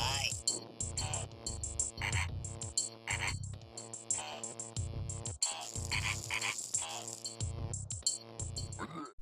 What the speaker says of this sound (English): I'll represent these sounds on screen with B for buzz and C for croak.